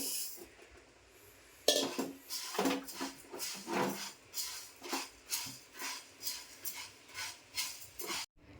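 Roasted lentils for Malvani vade flour are tipped from a hot pan and scraped out in a steady run of rattling, scraping strokes, close and fairly loud, after a quiet start. No one speaks.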